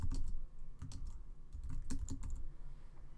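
Someone types a document heading on a computer keyboard, producing quiet, irregular bursts of key clacks, some quicker runs and some isolated taps, close by and alone without talking.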